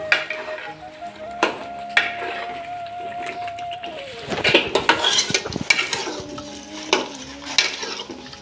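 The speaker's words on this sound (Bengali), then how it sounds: "আমি চিকেনটা দিয়ে কষাই একটু" Chicken being sautéed with fried spices in a pot for homemade biryani, with a low sizzle under frequent clanks and scrapes of a metal spoon against the pot, close and uneven.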